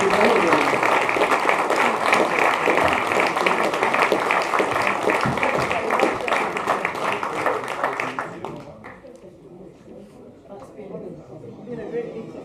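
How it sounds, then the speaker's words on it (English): An audience at a political event gives a round of applause, clapping for about eight seconds with voices mixed in, then fading to murmured chatter and talk. "Can we give them a round of applause?"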